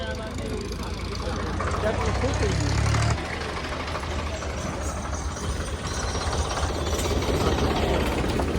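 A tractor engine labours while the tractor is stuck, giving a low, rough, knocking rumble that is heavier for the first three seconds, then settles into a steady strained drone, close and continuous under faint background noise.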